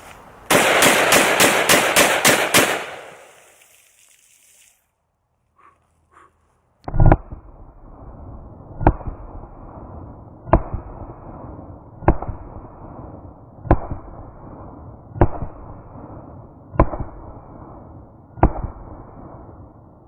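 A Desert Eagle .44 Magnum pistol fires, first as a dense rapid flurry of sharp cracks, then after a short pause as eight single loud gunshots at steady intervals of about two seconds, each followed by a lingering outdoor tail.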